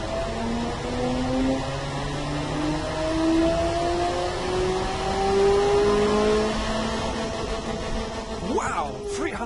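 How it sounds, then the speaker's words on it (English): Aluminum race engine in the video game Automation revving on a dyno, a rising whine that climbs steadily in pitch over several seconds, then drops and briefly revs again near the end, with voices talking over it. "Let's put it on the dyno and see how it performs."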